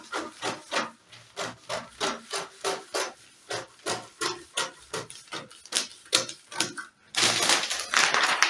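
Scissors cut fabric for a flare with a steady run of regular, crisp snipping strokes, followed by a short stretch of rustling at the end.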